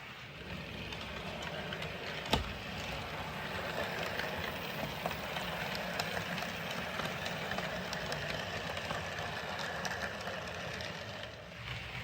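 A model railway train shuttles back and forth along the track, giving a steady low mechanical running hum with a slightly rough edge and one sharp click partway through, faint and continuous throughout.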